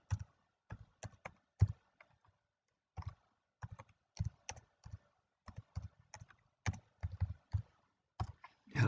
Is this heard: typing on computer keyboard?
yes